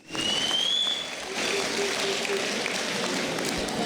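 A school celebration crowd claps for the groundsmen, a dense, continuous wash of applause that dips briefly and then swells again, while a voice carries on speaking over it.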